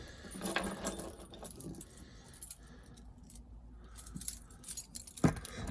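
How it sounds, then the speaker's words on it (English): Keys jangle and clink close by while someone gets ready to start a boat engine. Bursts of bright metallic rattling are separated by quieter handling pauses. "it does help if you know where the keys are"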